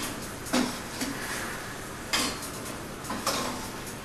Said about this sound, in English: the perfect texture to remove them from the pan and keep them warm. So that's what I'm going to do next with a slotted spoon